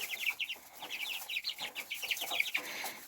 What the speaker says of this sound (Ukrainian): Дивіться, дивіться, які вже мої курчата.